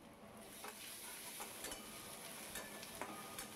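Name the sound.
onion frying and stirring with salt and turmeric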